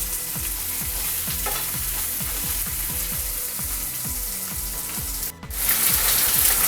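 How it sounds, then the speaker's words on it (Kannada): Onions and green chillies frying in a pan for a dhaba-style paneer masala, a steady sizzle broken by a quick run of rhythmic scraping stirs, followed by a brief pause and then louder frying. "ಈರುಳ್ಳಿ ಚೆನ್ನಾಗಿ ಬೇಯ್ತಾ ಇದೆ."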